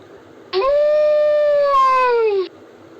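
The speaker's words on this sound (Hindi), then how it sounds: "तो ये बच्चों ये है सियार।" A jackal gives a single long, clear howl of about two seconds, steady and slowly falling in pitch at the end, close and loud over a quiet background.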